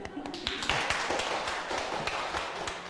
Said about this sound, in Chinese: 给你们拍拍手